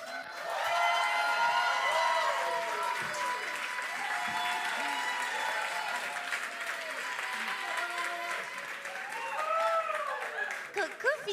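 A French show audience gives steady, sustained applause, and voices speak and call out over the clapping throughout.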